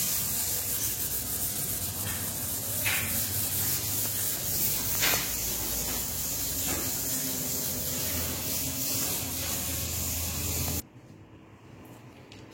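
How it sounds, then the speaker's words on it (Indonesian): Fine sandpaper, 1000 then 2000 grit, is rubbed steadily over a wood and resin coffee table, a continuous close hissing scrape with faint rhythmic strokes, then cutting to quiet near the end. "Kita amplasnya pakai amplas 1000 aja. Dilanjutkan ke amplas 2000"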